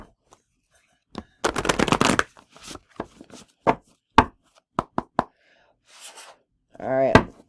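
Tarot cards riffled and shuffled by hand in a few crisp papery bursts with soft taps between, close and fairly quiet, with a brief voice near the end.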